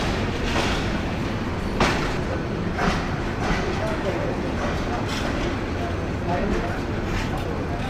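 The Kishoreganj Express intercity train rolls on steadily, heard from a window seat inside a carriage, a dense, constant rumble broken by recurring rhythmic wheel clacks, with faint murmuring voices underneath.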